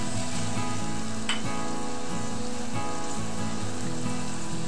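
Margarine and salt sizzling in a hot pan before rice goes in: a dense, continuous frying hiss with a low hum underneath and one brief scrape, fairly loud and steady, no voices.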